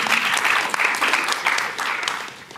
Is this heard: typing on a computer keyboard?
no